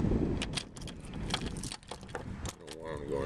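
Keys jangle and clink close by in a quiet outdoor setting, in a series of short metallic rattles with soft handling noise in between.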